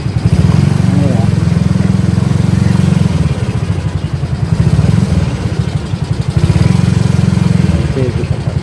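A motorcycle engine idles and putters close by while the rider looks for a parking spot at a botanical garden, a steady loud thrum that dips and swells, with talk faintly in the background.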